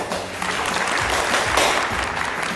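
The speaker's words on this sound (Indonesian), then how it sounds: "tepuk tangannya dong, tepuk tangan yang meriah" Lively applause from an event crowd answering an MC's call, a dense, loud wash of clapping that holds steady throughout without speech.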